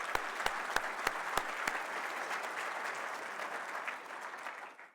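An audience at a scholarship foundation keynote bursts into applause, a few sharp claps at first swelling into dense, sustained clapping from a large crowd that fades out at the end.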